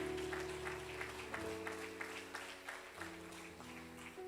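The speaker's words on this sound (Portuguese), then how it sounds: "Aplaude a Deus, aplaude em nome de Jesus." A church congregation claps together in a steady, dense applause that fades slightly over a few seconds, with a low sustained organ or keyboard tone underneath.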